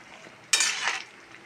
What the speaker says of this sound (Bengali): ভেজে রাখা মাছটা দিয়ে দেবো।